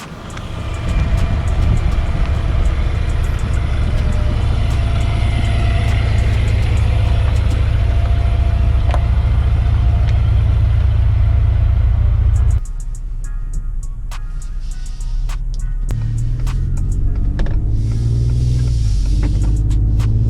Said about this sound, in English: The EcoBoost V6 puts out plenty of torque, and the 10-speed transmission shifts nice and firm.